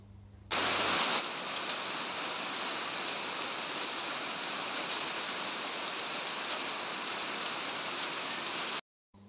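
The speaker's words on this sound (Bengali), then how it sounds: "বৃষ্টির শব্দটা আপনাদের সঙ্গে শেয়ার করলাম" Steady rain pours down on a rooftop in a continuous, dense hiss that starts abruptly and holds at an even, fairly loud level before cutting off near the end.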